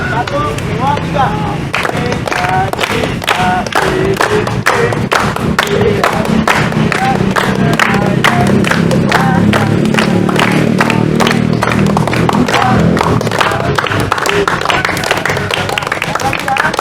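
A group claps together in rapid, sharp bursts with cheering voices mixed in, loud and close throughout, with spoken prompts between the claps.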